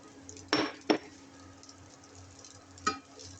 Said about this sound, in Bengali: আর এইগুলোকে এখন সব একসাথে মিক্স আপ করবো